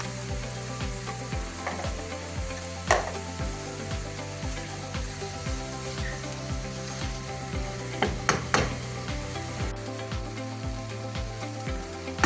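Onion sizzles and fries in a pan with crushed dry coriander for aloo paratha filling, a steady close crackle broken by repeated scraping stirs, with no talk.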